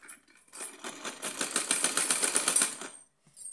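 Sewing machine stitching a cotton summer outfit for a small Laddu Gopal idol, running in a steady fast rhythmic burst of about two and a half seconds, close and clear, starting and stopping with short pauses.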